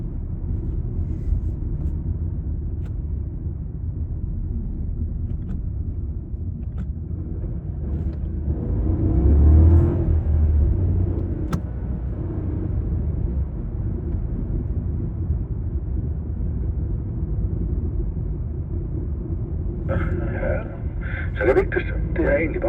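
A car on a driving practice area produces a low, steady engine rumble that swells briefly as it accelerates away, heard beneath someone speaking Danish throughout.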